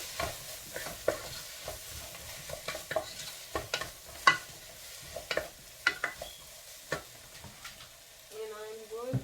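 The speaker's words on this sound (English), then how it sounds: "Stir this." Pan-seared tilapia seasoned with paprika and black pepper is stirred in a frying pan, with a soft sizzle beneath repeated sharp scraping and tapping strokes at an uneven rhythm, close and fairly quiet.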